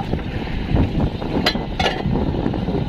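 Strong wind buffets a small boat out on the Pacific Ocean, a loud continuous rumbling roar with a couple of brief sharper gusts or knocks partway through and no voices.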